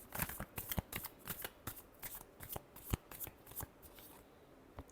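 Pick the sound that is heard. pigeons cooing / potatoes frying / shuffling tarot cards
shuffling tarot cards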